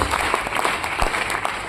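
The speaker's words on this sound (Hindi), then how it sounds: "एक बार जोरदार तालियां" Audience applause at a business event in a hall, steady dense clapping from a crowd with a few louder claps standing out, lasting throughout.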